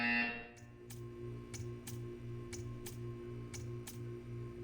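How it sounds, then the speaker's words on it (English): A short buzzer tone sounds at the start, then gives way to a steady, faint electrical hum with regular ticking clicks. "You will hear a buzzer."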